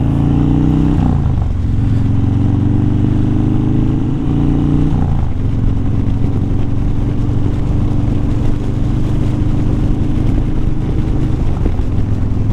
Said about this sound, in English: Got a 2014 FXDB Street Bob.